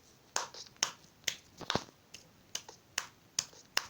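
A person claps his hands in sharp single claps spaced roughly half a second apart, about ten in all, close and crisp, with no talking.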